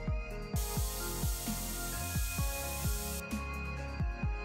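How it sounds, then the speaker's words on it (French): An aerosol spray is released in two bursts of hissing near a dog, while rhythmic clicking or tapping sounds repeat steadily throughout at low level. "je retourne le spray et je m'en sers normalement"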